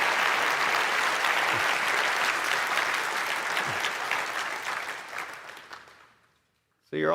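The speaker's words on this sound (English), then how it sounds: "Why don't we just do one more round of applause for the Giga Chad himself, Michael Saylor." Sustained audience applause at a Strategy World 2025 conference session, a dense wash of clapping that holds steady for several seconds, then thins out and fades to near silence before a voice cuts in at the end.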